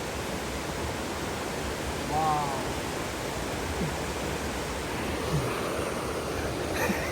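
Steady, full roar of falling water from a tall waterfall at Curug Sentral fills the whole stretch evenly and loudly, with one brief spoken exclamation partway through.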